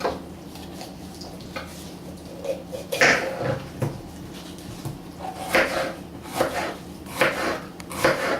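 Peppers for salsa are chopped with a knife on a board in uneven bursts of sharp, close taps, scattered clusters of strokes separated by brief pauses, with no voices.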